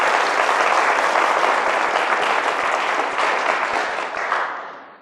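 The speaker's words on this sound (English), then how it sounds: "Do they deserve a round of applause?" An audience at a hypnosis show applauds the hypnotists, loud, close and dense clapping that holds strong before easing off at the end.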